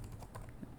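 Quick, light clicks of typing on a computer keyboard, a short run of soft keystrokes, faint and close, with no talking.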